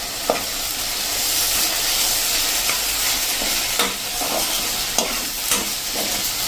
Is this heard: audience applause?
no